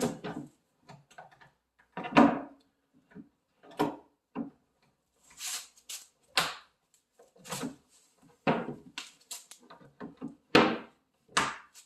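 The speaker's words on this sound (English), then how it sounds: "Now I can clip my hinge" A series of light wooden knocks, scrapes and a metallic click come through close up as a cabinet door hinge is clipped into place on a blind corner pull-out.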